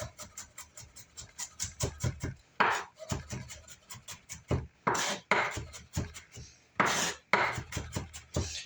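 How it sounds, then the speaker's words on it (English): A knife slices garlic on a cutting board in a kitchen, a close series of sharp, rhythmic taps on wood broken by a few breathy pauses. "I'm just going to take the garlic, hold the garlic on top, and just give it a little slice."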